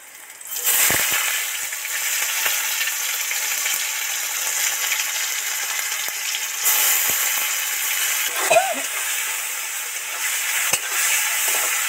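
Chopped onions frying in oil: a continuous bright sizzle with crackles, steady throughout, with an occasional stir or clink.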